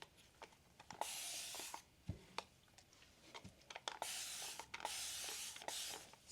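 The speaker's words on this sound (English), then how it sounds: "Okay, we're gonna go ahead and spray it." Water misted onto hair from a handheld spray bottle, several short hissing bursts in quick succession between quiet pauses with small handling taps, close and moderately loud.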